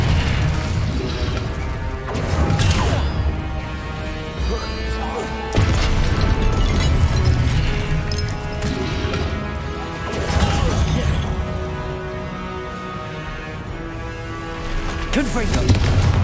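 Repeated Confringo explosive spell blasts from Hogwarts Legacy combat, loud crashing booms recurring every few seconds over a dense bed of game music and effects, with shouted spell incantations in between.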